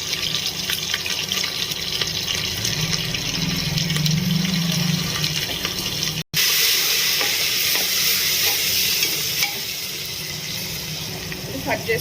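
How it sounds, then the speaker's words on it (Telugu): Onion with ginger-garlic paste sizzles and fries steadily in a pan, a loud continuous hiss with stirring scrapes, briefly cutting out midway before resuming. "ఇప్పుడు ఆనియన్ వేగిపోయింది కదా, అల్లం వెల్లుల్లి పేస్ట్ ఫస్ట్ వేసుకొని కొద్దిసేపు ఫ్రై చేసుకోవాలి"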